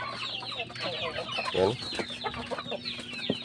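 Caged young roosters, pet farm chickens penned for sale, cluck and squawk in a busy overlapping flock close by, with one short spoken word breaking in.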